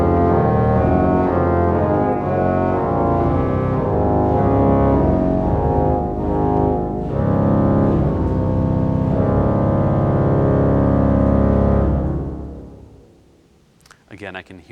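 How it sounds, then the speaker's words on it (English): A 32-foot bombard played together with 8- and 16-foot trombone reeds on a church pipe organ of more than 3,000 pipes, producing a massive, sustained low roar of chords that ends abruptly and leaves a brief reverberant tail with faint clatter. "The 32-foot bombard with the other two make a really big noise."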